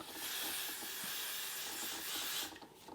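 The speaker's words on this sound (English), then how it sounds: "We're going to go ahead and start spraying this on the perimeter of our wig cap." Aerosol can sprayed around the perimeter of a wig cap: one continuous close, bright hiss lasting about two and a half seconds, then stopping abruptly, with no speech.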